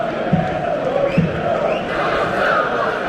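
Manchester United supporters in a stadium crowd during a home match against Bournemouth, producing a loud, continuous roar with rising, chant-like voices, heard up close from the stands.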